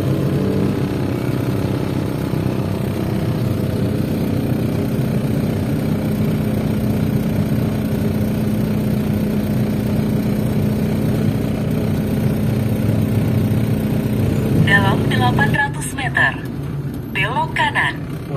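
Heavy Malaysian road traffic jam with motorcycles and cars, a continuous low rumble of idling and creeping engines up close, with a person talking over it near the end.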